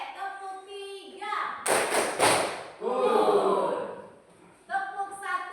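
Children in a class clap in unison for a spirit clap, a brief loud double burst of hands followed by a rougher stretch of clapping, between a teacher's spoken instructions.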